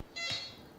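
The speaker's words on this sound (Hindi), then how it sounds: "मैं चाहूँगा कि आप दोनों अपना बज़र एक दफ़ा बजा के चेक कर लें।" A quiz show buzzer pressed once as a test in a studio, giving a single steady electronic tone of about a second that starts abruptly and sounds close and clear, with no talk over it.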